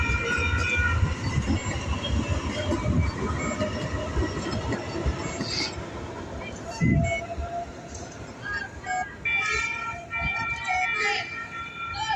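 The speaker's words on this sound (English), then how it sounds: "Police there letting the train go finally." A train rolls past at a crossing during a street protest, its low steady rumble and rattle sustained throughout at moderate distance, with crowd noise and occasional tonal sounds on top.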